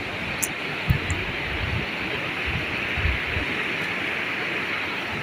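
Clear green river water flowing in Himachal, a steady broad rushing wash heard up close, with a few low thumps and light wind noise on the microphone.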